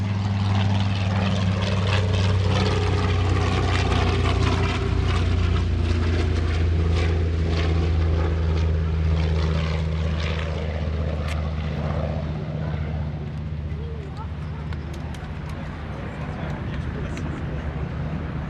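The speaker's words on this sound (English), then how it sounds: "Here comes Jim Pusateri with the TBM Avenger." A TBM Avenger, the rare night version with a radar pod under the right wing, drones past at an airshow, its radial engine and propeller giving a loud, steady roar that slowly fades, with an announcer speaking over it.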